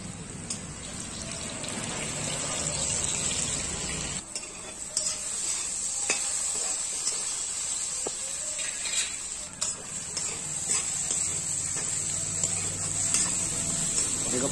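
Mango and fish curry ingredients fry in a pan with a steady, bright sizzle, stirred with occasional scraping and clinks throughout, close and continuous.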